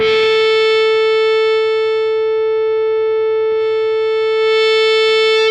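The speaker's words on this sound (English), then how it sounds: "you can hear how much of that feedback goes away by just affecting the treble" A sustained, loud electric guitar feedback tone rings steadily, its bright upper overtones fading for a while and then swelling back in.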